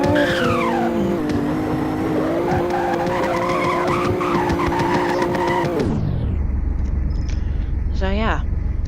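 A car driven in a video game, with engine whine rising and falling, tyres skidding and squealing, then a sudden drop to a low steady rumble and a brief warbling tone near the end, all loud and close.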